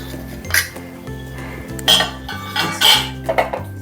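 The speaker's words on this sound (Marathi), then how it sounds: "असं ताट घ्यायचं ताटाला थोडंसं तेल लावायचं म्हणजे हे वडे त्याला चिकटणार नाही" A metal plate is handled while it is greased with oil for making vadas in a home kitchen: several close clinks and clanks of the plate over a low steady hum. No one speaks.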